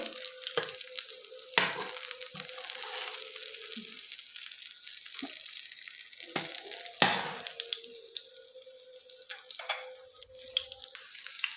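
Potato pizza bites fry in oil on low heat, giving a soft, continuous sizzle with intermittent crackles, stirring clicks and faint drips nearby.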